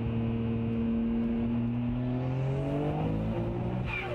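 A Nissan Skyline R34 GTR engine accelerates hard from inside the car, a loud, steady roar whose pitch climbs continuously through the revs over several seconds, with no talk.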